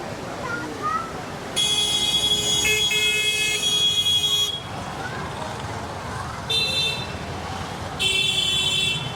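Several loud car horn blasts sound over busy street noise in Port Blair, Andaman Islands, in long bursts with short gaps, while people talk in the background.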